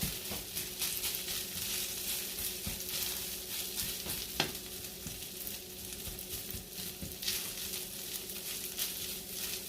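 Spam fried rice sizzles steadily in a hot oiled pan as a silicone spoon stirs and scrapes through it, with soft scuffs and occasional light taps over a continuous frying hiss.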